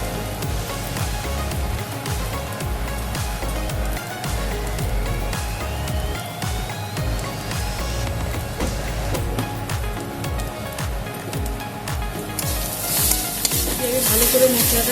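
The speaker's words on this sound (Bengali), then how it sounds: "ভালো করে মশলাটা কষিয়ে নেব।" Spices sizzle and fry steadily in hot oil while being stirred for katla fish fingers, a dense continuous crackle broken by repeated scraping strokes of the spoon, close and fairly loud throughout with no talking.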